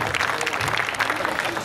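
An audience at a poetry gathering (kavi sammelan) claps to welcome a woman poet onto the stage, with a short, dense burst of crowd applause mixed with a voice.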